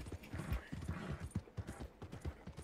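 Horse galloping in the video game Red Dead Redemption 2: a steady, rhythmic run of close hoofbeats with no voices.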